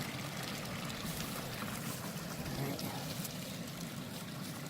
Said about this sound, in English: I love the sound of a stream. Well, there's a little waterfall if you can see it.